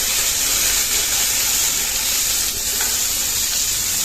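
Sliced capsicum sizzles and crackles steadily in a hot pan, a constant close-up frying hiss with no voices.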